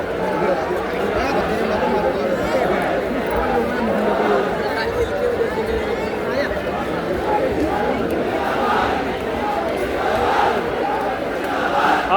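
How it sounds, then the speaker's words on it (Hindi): Dense crowd of children gathered at a protest, a continuous babble of many young voices chattering and calling out close by, steady and loud throughout with no pauses. "बहुत भीड़ है, बहुत भीड़ है। बच्चे आ गए सारे, भैया"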